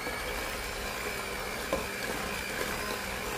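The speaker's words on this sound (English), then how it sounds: "now we're just gonna mix this up" An electric mixer whirs while beating almond paste, a continuous motor drone with a steady mid-range whine and faint rattles from the bowl, close and unbroken.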